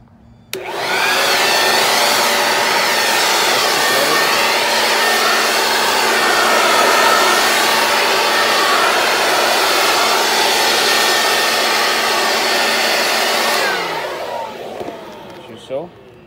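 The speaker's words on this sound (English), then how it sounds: "Electric blower is much better. It's more powerful than the battery." A Black and Decker electric leaf blower starts up and runs loud and steady for about thirteen seconds with a high-pitched whine, then winds down and falls silent; no one speaks over it.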